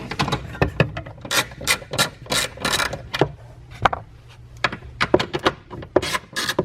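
A ratchet clicks in quick, uneven bursts as it backs out the 10mm nuts that hold the subwoofer in a Ford Focus. The clicking is close and loud, with short pauses and some clunks between bursts.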